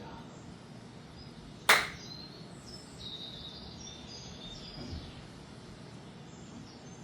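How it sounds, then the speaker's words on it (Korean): Faint birdsong outdoors, with a few thin chirps and short trills scattered over a quiet, steady background and one sharp, brief click near the start. "맑고 고운 새소리를 들을 수 있음에 감사하며"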